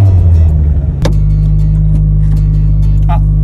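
A Mazda Roadster's engine hums steadily up close as the car pulls away, a constant low drone after a brief shift in tone, with a few faint clicks over it.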